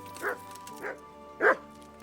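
Dog in the video game Kingdom Come: Deliverance yelps three times when stepped on, short pained cries spaced about half a second apart, the last loudest, over a steady low game hum.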